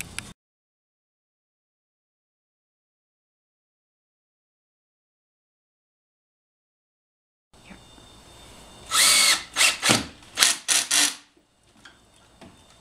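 After a long silence, a power drill drives screws into wooden cross braces for an oak wine barrel table, giving several short, loud whirring bursts close by, then a brief quieter tail.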